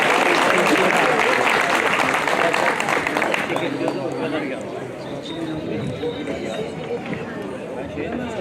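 An audience applauds at a stage event as Ali Nur Aktaş is invited up, with dense, loud clapping over the first few seconds that then eases into softer, scattered clapping under crowd chatter.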